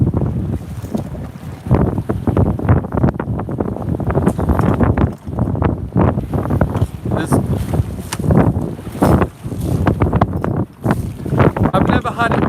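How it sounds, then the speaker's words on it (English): During a sudden storm, waves slam into the bow of a small sailboat, a loud churning roar with heavy wind buffeting the microphone, and someone speaks over it throughout. "the waves are hitting the front of the boat and they're getting me back here"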